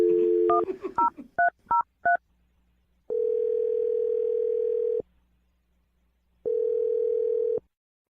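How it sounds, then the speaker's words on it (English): A quick series of telephone keypad tones beeps out a number, followed by two long, steady ringback tones separated by silence, during a radio show phone call. "We're about to dial his phone number."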